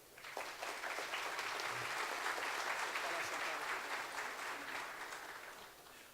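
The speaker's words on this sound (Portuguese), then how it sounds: "Vamos recebê-lo com uma salva de palmas." A seminar audience at a legal conference in São José do Rio Preto applauds with steady, sustained clapping that fills the room for several seconds, then begins to fade.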